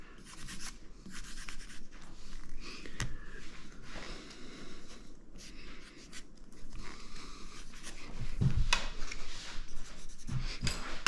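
A pen scratches across paper while a moose drawing is signed, giving close, soft, uneven scribbling strokes in short bursts with no talk.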